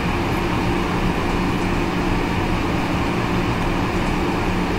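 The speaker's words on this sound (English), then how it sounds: "The train is pretty much going to descend on its own." Metro-North New Haven Line train running in the Open Rails simulator, a loud continuous rumble and rolling noise with steady broadband roar coasting downhill, no voices.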